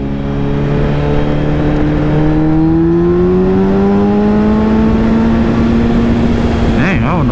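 A car engine revs and accelerates steadily, its pitch rising over several seconds, loud and close, with a brief rougher burst near the end.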